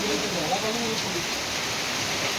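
Steady, dense hiss of heavy cyclone rain pouring down during Cyclone Fengal, constant and fairly close, with faint voices in the background.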